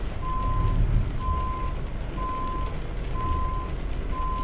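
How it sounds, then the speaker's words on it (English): Truck reversing alarm in American Truck Simulator, five evenly spaced steady beeps about once a second over a low engine rumble, moderately loud with no talking. "my 2018 Freightliner had a backup sound like this"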